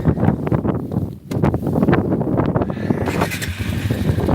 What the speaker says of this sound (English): how the audio sounds on a windy day, and taking along for the ride on the quad